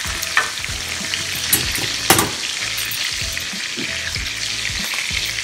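Lamb chops sizzle loudly and steadily in a hot pan, with brief clatters as they are flipped, no talking.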